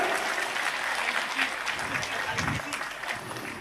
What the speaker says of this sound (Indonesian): Tepuk tangan untuk Sayyid Zulfikar.